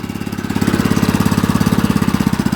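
A stock Tecumseh small engine on a putt putt bike runs close and loud, its single-cylinder thump pulsing rapidly and evenly as the throttle holds high revs.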